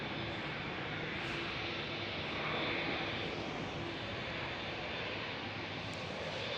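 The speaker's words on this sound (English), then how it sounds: "see Finnair A350 pushing back as well." A Finnair Airbus A350 airliner pushes back at Amsterdam Schiphol, its engines giving a steady, broad roar that holds evenly throughout without pause, moderately loud and continuous at a distance.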